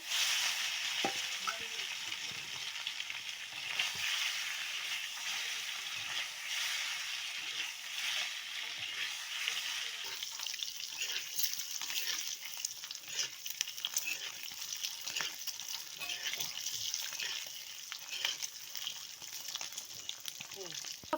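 Food frying in oil in a pan gives a steady, close sizzle with bubbling crackle that runs the whole time, and a voice speaks now and then over it.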